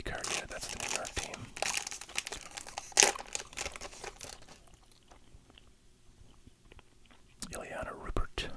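Close, soft whispering with wet gum chewing, crinkling and rustling of trading card packs, busy for the first four seconds, near-silent through the middle, then returning in the last second.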